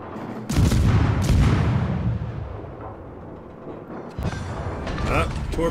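A torpedo strikes an enemy cruiser in the World of Warships naval battle game, producing loud, booming explosions in two heavy bursts with rumbling decay between them.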